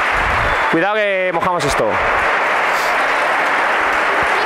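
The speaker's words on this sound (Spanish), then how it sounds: "Que os van a dar un aplauso esta gente." Applause from an audience at a minibasket coaching clinic, a steady wash of clapping throughout, with a person speaking briefly over it near the start.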